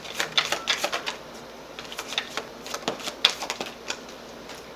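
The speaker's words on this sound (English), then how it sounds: "I'm going to pull cards for them" Tarot cards being shuffled and pulled for a reading, a quick run of soft papery snaps and flicks in an uneven rhythm, close and fairly quiet, with no talking.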